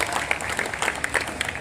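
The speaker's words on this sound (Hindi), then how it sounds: "ताली बजाओ आप जोरदार।" A hall audience at a Hindi comedy poetry gathering in Guna, Madhya Pradesh gives brief, dense, steady applause, with a few louder claps standing out near the front.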